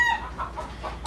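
Chickens and roosters cluck loudly and close while being fed grain, a few choppy calls running back to back with no one talking.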